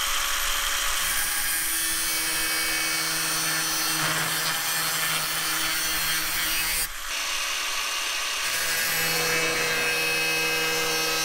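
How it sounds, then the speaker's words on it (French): Angle grinder cutting flat iron bar: a sustained high, harsh grinding whine that dips briefly partway through and then resumes, loud and close. "Donc je les découpe à la disqueuse,"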